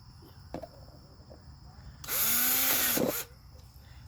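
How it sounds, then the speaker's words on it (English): A power drill with a 1/4 inch bit enlarges a screw hole in a homemade wooden bird feeder, one loud whirring burst of about a second with rising motor pitch, preceded by a small knock, close and without speech. "I'm going to take my bigger 1/4 inch bit here, size it down just a little bit"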